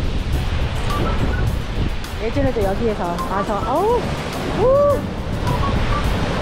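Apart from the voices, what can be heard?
ocean waves crashing below cliff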